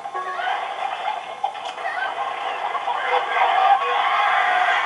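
Chickens cluck and squawk in a steady, busy stream in the video game Family Guy: Back to the Multiverse, over a constant synthetic background hum, with several birds calling close together and no talking.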